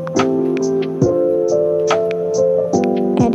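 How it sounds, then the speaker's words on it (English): Android phone keyboard set to an iOS-style theme producing short crisp click sounds as keys are tapped, irregular taps over sustained background music, close and distinct. "what you're hearing right now is the iOS click sound in the iOS"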